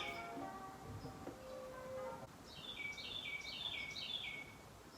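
Small birds chirping outdoors in short bright bursts, faint and fairly distant, with a steadier whistled call earlier and a quick run of repeated high chirps later over low background noise.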